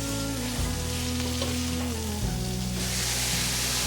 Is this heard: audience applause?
no